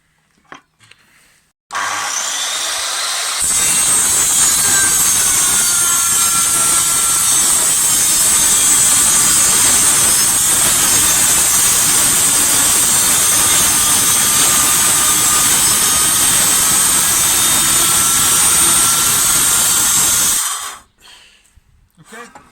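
A power saw cuts through a kitchen worktop, starting abruptly and holding one loud, steady, high-pitched whine for about seventeen seconds before cutting off and running down.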